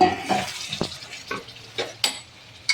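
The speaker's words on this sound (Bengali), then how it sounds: "এই সময় ভেজে রাখা আলুগুলো এর মধ্যে দিয়ে দেবো" Fried potatoes dropped into a pot of mutton curry, a series of soft clattering plops and scrapes with a spoon against the metal pot, several separate knocks spread irregularly over a few seconds in a quiet kitchen.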